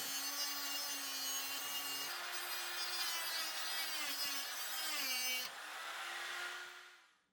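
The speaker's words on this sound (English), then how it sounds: "So now I'm gonna drill a hole through the middle of this" A drill bores steadily through a round wooden disc, a continuous whining grind with shifting pitch that eases off and fades at the end.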